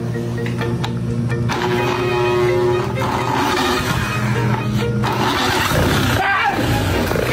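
Honda PCX 160 scooter, converted from fuel injection to carburetor, being started with an experimental starter: cranking then a mid-pitched engine catching and running unevenly nearby, with people talking over it.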